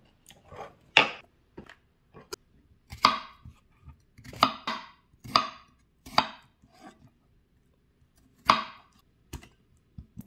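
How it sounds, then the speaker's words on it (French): A knife chops garlic cloves into small pieces on a board in a home kitchen, giving a series of crisp, irregular taps in short bursts, close and fairly quiet, with no talking. "Et là, je coupe en petits morceaux."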